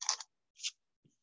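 Fabric cut along a ruler edge with a precision cutting tool: two quick, crisp swishes close by, followed by a soft faint tap, quiet overall and with no talking.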